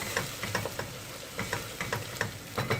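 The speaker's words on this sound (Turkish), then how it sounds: "Hafif pembeleşinceye kadar kavuralım." Chopped onions fry and soften in a hot pan for the Turkish dish madımak, giving a steady close sizzle broken by repeated scraping clatters as the onions are stirred.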